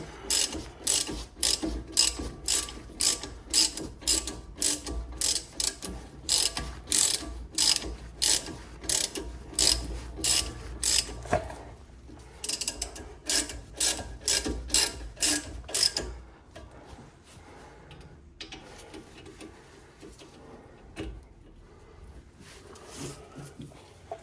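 Ratchet wrench tightening front brake bolts on a Porsche 911 991.2, rapid loud clicking bursts repeated in quick rhythmic strokes for about sixteen seconds, then quieter scattered clicks and handling noises.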